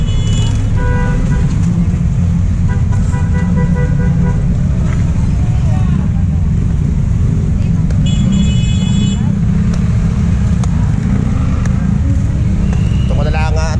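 Busy street traffic hums continuously with several short car horn toots scattered throughout, while people talk nearby.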